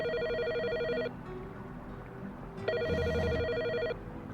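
A telephone in the convenience-store video game Inconbini rings with two bursts of a trilling electronic bell tone over a low background hum, loud and close, with no talking.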